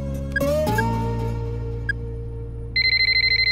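Phone ringing in a Tamil film scene: an electronic ringtone tone holds steadily, then a rapid pulsing beep pattern takes over near the end, clear and close.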